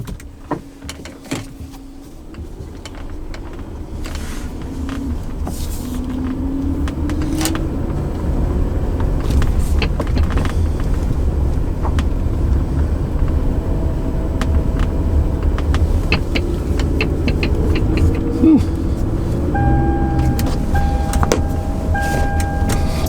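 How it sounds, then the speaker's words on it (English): The gas engine of a 2009 Toyota Camry Hybrid with a hybrid system fault idles in a low, steady rumble heard from inside the car, joined near the end by a repeating electronic chime. "Gas engine's purring nicely."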